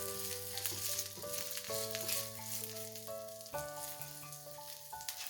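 Salted potato pieces fry in a pan of oil for a mushroom curry, giving a steady, soft sizzle that sits beneath louder melodic background music for the whole stretch.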